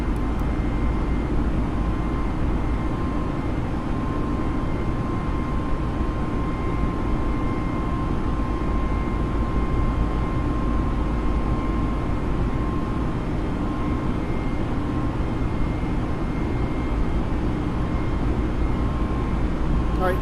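A320 airliner engines at climb power in Microsoft Flight Simulator, a loud, steady broadband roar with a faint constant whine running unbroken throughout.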